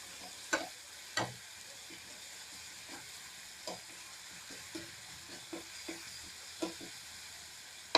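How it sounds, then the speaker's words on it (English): Ginger and garlic frying in a pan with a steady low sizzle, broken by several sharp scrapes and clicks of stirring spaced irregularly, close and fairly quiet, no talking. "Fry this for about 1 minute until that raw smell of the ginger and garlic is gone."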